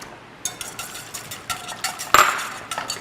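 A whisk beating Parmigiano Reggiano cheese into Alfredo sauce, with a fast run of metallic clicks and taps against the pan, one sharp clank partway through, close and fairly loud with no talking.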